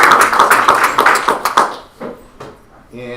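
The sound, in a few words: applause for new teachers at a board meeting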